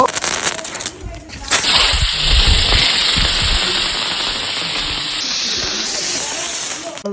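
A lit firework catches and lets out a steady, loud hissing spray that runs on for several seconds, with a faint high whine above it.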